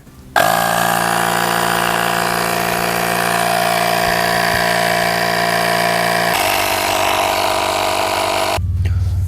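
Portable tire inflator pumping a car tire from 18 to 36 PSI, a loud, steady motorized buzz with a strong rattling hum that runs continuously, shifts pitch slightly partway through, then cuts off abruptly near the end.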